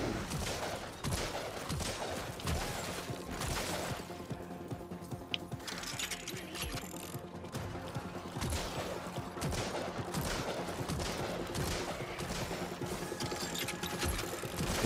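Gunfire in the horror-mode VR shooter After The Fall: dense bursts of rapid shots and mechanical clatter repeat across the clip, with weapon handling and reload clicks mixed in, steady and fairly loud without any talking.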